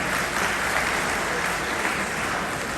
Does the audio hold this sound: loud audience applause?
yes